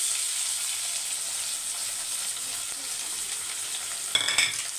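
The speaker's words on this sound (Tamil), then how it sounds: "வெங்காயம் வந்து நல்லா வதங்கணும்" Small onions and slit green chilies sautéing in a pan, a constant close hiss of frying oil with a brief burst of stirring clatter near the end, no voices.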